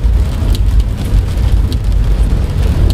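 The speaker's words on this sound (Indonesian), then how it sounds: "Kalau sudah hujan gini paling enak ini guys." Rain heard from inside a 2016 Toyota Calya E 1.2 manual car driving in drizzle and heavy traffic. A steady low road and engine rumble runs under a soft patter of drops on the body, with no voices.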